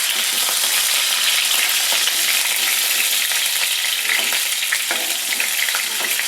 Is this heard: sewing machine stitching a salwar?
no